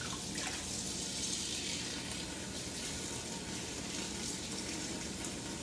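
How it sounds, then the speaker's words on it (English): Water runs steadily from a tap into a kitchen sink, a continuous rushing splash close by with no voices. "Put water in the sink."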